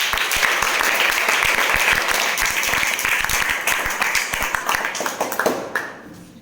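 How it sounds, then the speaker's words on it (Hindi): Loud classroom clapping for a law of reflection demonstration, rapid overlapping claps from many students close by, holding steady before tapering into scattered final claps. "तालियां बजाएं।"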